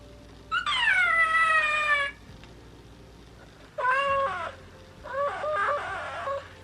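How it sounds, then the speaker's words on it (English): A worn Build-A-Bear toy sound box meows when pressed, playing three synthetic cat meows in a row, each lasting about a second. The tone sounds slightly off and electronic, and there is no talking. "if you do press it there, it sounds like it's meowing"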